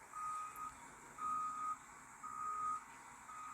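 Reversing beeps from a Cat 980 wheel loader working beside a dump truck, three steady evenly spaced tones over a low diesel engine rumble, moderately loud and close with no voices.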